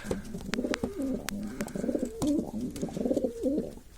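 Pigeons in a coop coo repeatedly at close range, soft rolling calls one after another, with a few sharp clicks and flutters in between.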